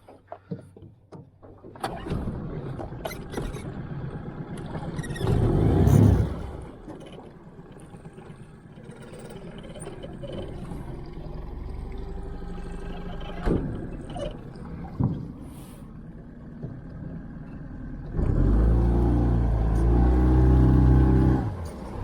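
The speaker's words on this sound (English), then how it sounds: "I'm still getting used to this motor." Outboard motor on a jon boat running on open water, a steady droning engine with surges and swells in throttle, wind and water noise around it, loudest toward the end.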